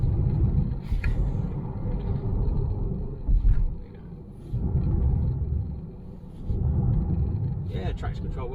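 A Tesla Model 3 Highland driving while its traction control is tested, with low road rumble swelling and easing in surges as the car accelerates, and a voice talking over it.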